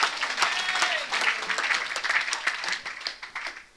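A church congregation applauds during a Sunday healing and deliverance service, steady dense clapping sustained throughout with crowd murmur and scattered voices mixed in.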